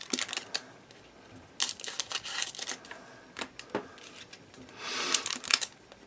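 Dull scissors snip and crunch through foil baseball card packs from a 2002 Fleer Premium box, a series of close, sharp cutting and crinkling sounds in irregular bursts with no talking.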